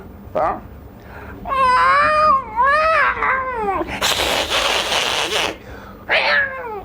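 A person imitates an angry cat with drawn-out, wavering yowls and a harsh hissing spit, loud and close, and other voices speak briefly around it.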